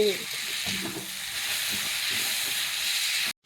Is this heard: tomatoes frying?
yes